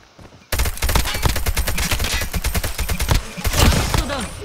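Sustained automatic fire from an ASM10 in a video game, a dense rapid stream of loud gunshots running almost unbroken from start to finish, close and dominant with no speech.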